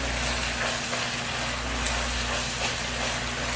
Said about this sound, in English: We're going to stir it on up really good.